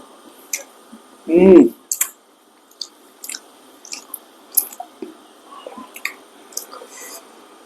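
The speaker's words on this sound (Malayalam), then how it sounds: "ബീഫ് ഫ്രൈ മാത്രം ഒന്ന് ടേസ്റ്റ് ചെയ്ത് നോട്ടെ" Someone chews a bite of beef fry at a Kuttanad toddy shop restaurant, with soft, wet, irregular mouth sounds close to the mic and a brief murmur of voice near the start.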